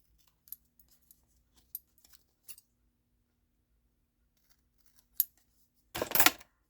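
Scissors snipping the edges off stapled paper journal pages, a handful of sharp, close, isolated clicks spaced out across quiet, ending in a longer louder crunch of cutting.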